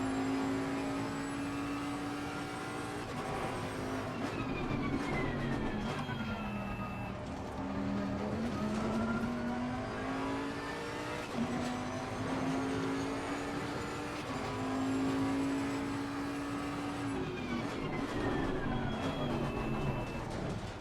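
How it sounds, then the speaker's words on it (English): Heavy race car engine in the Assetto Corsa Competizione sim racing game, a steady whining drone rising and falling in pitch through gear changes, moderately quiet and continuous with no talk. "God, this is such a big, heavy car,"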